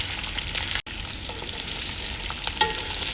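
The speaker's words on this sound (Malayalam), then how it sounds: "അതിന് ശേഷം നമ്മൾ കഴുകി വൃത്തിയാക്കി വെച്ച ഈന്തപ്പഴം ഇട്ട് കൊടുക്കുക. നന്നായിട്ടൊന്ന് വഴറ്റിയെടുക്കുക" Fresh dates for pickle sizzle steadily in hot oil in a pot, with a close, continuous frying hiss and occasional scrapes and clinks of stirring, and one brief dropout partway through.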